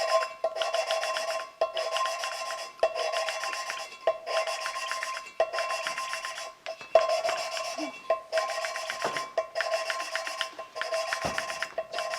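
Valves on a Dodge 318 V8 cylinder head are hand-lapped with compound and a suction cup, giving a steady rhythmic gritty rasp of rubbing strokes in repeated bursts, close and fairly loud, with no talking.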